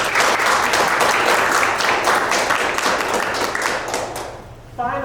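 Audience applause fills a theater, steady, dense and loud for several seconds before tapering off abruptly, then a brief voice begins speaking.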